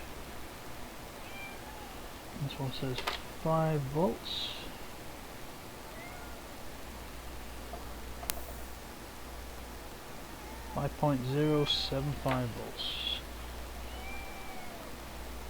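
Two short bouts of a cat meowing nearby during a satellite kit teardown, several seconds apart, while a person talks quietly over faint background hiss.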